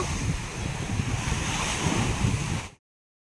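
Sea waves wash in at Porbandar Chowpatty beach, a steady loud roar of surf mixed with wind buffeting the microphone, continuous for nearly three seconds before cutting off abruptly.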